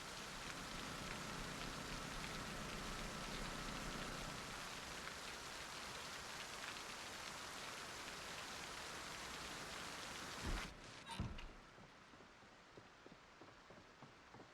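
Steady rain falls on a surface for most of the stretch, a dense even patter that suddenly drops away near the end, leaving a quieter wet background with a couple of brief thumps.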